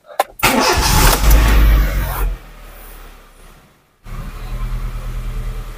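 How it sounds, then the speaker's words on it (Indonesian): An older Honda City GD8 engine cranks and catches with a loud burst, drops to a lull, then settles into a steady close idle alongside a running radiator fan. "sekarang saya coba nyalain mesin."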